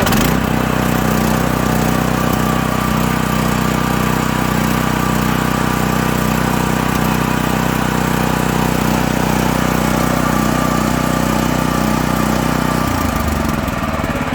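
New WEIMA W230F petrol engine on a WM1100C-6 DIFF walk-behind tractor running hard at high revs, a loud, close, steady engine roar that continues unbroken, shifting slightly near the end as the machine moves.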